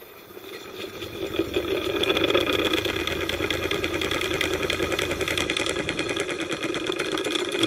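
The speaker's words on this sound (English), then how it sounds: "The copper sheet likewise spins very fast as the magnets spin below it" A ring of magnets spins beneath a 110 mm copper disc, setting it whirling fast in a Lenz effect demonstration; a steady motorized whir rises over the first two seconds, then holds loud and even.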